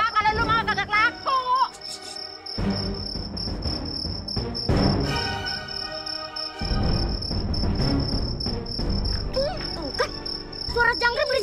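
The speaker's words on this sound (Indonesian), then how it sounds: "Suara jangkrik berisik amat." Crickets chirp loudly and continuously with a high, sustained trill throughout, while a few bird-like chirps and other background sounds come and go.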